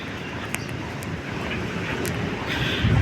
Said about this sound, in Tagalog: malakas pa rin ang yung hangin sa ngayon